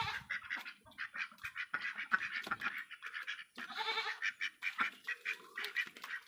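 Domestic ducks at a rural Assamese homestead, a small flock of about seven, quacking in repeated short bursts close by, with overlapping calls and some other farmyard animal noise mixed in.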